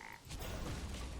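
Frogs croaking in a Hearthstone-style card game, with short low croaks and a burst of game effect noise, ending in a sharp thump.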